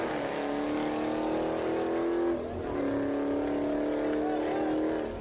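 A car pulls away and accelerates after backing into another car, its engine note rising, dipping briefly, then climbing again in a sustained drone with a faint voice in the background.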